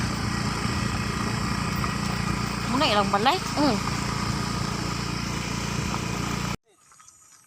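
A motorcycle engine runs steadily at close range, its constant mid-pitched drone continuing for several seconds beneath occasional conversation before cutting off abruptly near the end.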